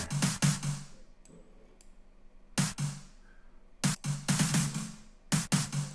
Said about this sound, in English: So this is snare.